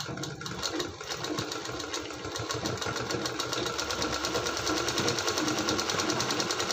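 Sewing machine stitching piping onto a blouse, a close, continuous rapid whirring hum that holds steady and grows slightly stronger.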